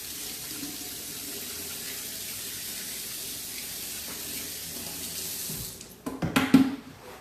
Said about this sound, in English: it's always tricky to wash your hands when you're using flour, but I just wanted to get some of those chunks off